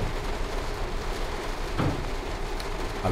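Rain drumming on a train's roof in Train Sim World 4 on the Edinburgh to Glasgow line, a steady dense patter over a low rolling rumble, with a faint knock midway.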